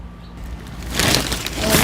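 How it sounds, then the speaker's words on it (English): Mulch is scattered and pressed onto freshly planted soil in a self-watering raised garden bed, a short close rustling crunch that builds in the second half of the moment. "And now I'm going to put some mulch on top of it."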